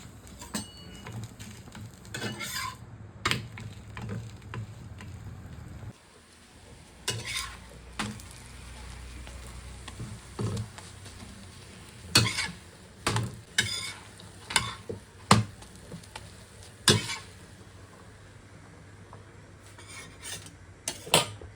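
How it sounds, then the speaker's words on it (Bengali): Tomatoes sizzle in a pan while a utensil stirs and scrapes, with repeated clinks and knocks of cookware over a steady frying hiss. "চলো টমাটোটা ভেজে নিই"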